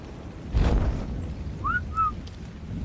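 A short two-note whistle command in the ARK video game, issued to a tamed creature during a jump, faint and brief against a gusty wind rush with no talking.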